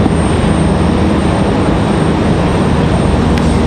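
A Delta CRJ regional jet taxiing at Raleigh-Durham airport gives off a steady, loud broadband engine roar that holds evenly throughout, with no voices.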